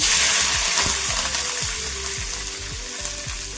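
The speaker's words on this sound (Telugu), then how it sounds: "ఇందులో పచ్చిమిర్చి వేయించుకున్నాము." Green chilies, split in two, sizzling in hot oil in a pan, with a steady bright crackle and repeated soft stirring scrapes, close and alone.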